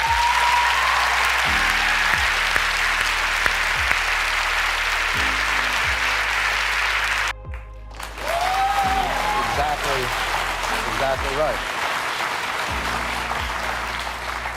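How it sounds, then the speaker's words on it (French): Audience applause during an interview with the young activist Malala, a steady crowd clapping under speech and a music bed, briefly cut off midway before the clapping resumes more faintly beneath talk. "le public se sent obligé d'applaudir à la fin de chacune de celles-ci"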